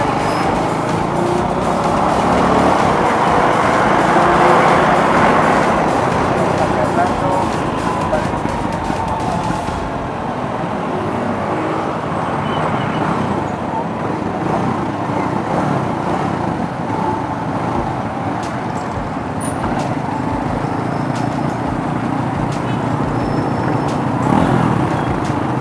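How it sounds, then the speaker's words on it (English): Steady road traffic rolls past on a busy street near the walking street in Angeles City, a continuous dense wash of car and motorcycle engine noise with no gaps and no talking. "This place always has a lot of traffic all the time."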